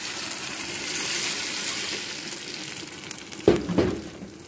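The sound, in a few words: tomatoes simmering with onions in a pan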